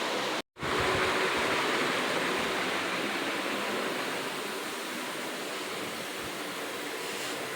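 Steady rushing water poured or running into a container to soak dirty laundry, a continuous dense hiss after a brief gap at the start, loud and close with no talking.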